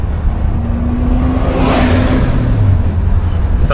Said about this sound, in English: Sounds like stock exhaust. She's not loud or rowdy by any means at all.